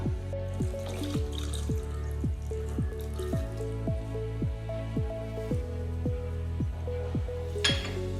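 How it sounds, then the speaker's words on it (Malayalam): Water splashes into a clay pot holding mango in a series of quick, ringing drops, each with a falling pitch, close and fairly quiet. "മാങ്ങട്ട് കൊടുത്തതിന് ശേഷം വേവാൻ ആവശ്യമുള്ള വെള്ളം ഒഴിച്ചെടുക്കാം"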